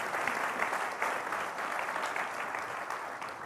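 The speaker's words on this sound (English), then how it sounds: "Let's give another round of applause to all of our panelists today." Steady, dense audience applause at a conference session honoring panelists, many hands clapping continuously at moderate distance with no voices on top.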